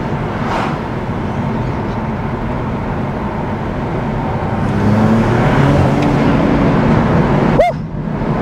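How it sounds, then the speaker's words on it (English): A BMW E92 335i with an N54 engine pulls hard under boost, its engine and road roar building in loudness before a brief chirp and a drop as power cuts near the end. "It's just, it builds boost and then you're poof."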